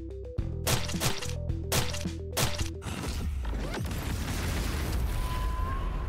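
Explosions in the Baldur's Gate 3 video game: a rapid series of sharp, heavy blasts with booming impacts, followed by a sustained rumbling crash and debris-like noise that slowly tapers.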